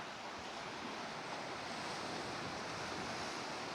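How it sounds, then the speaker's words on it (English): Sea waves washing onto a beach, a steady, even roar of surf with some wind, heard alone at a soft, constant level throughout. "we're gonna sit, eat some lunch, and listen to the water."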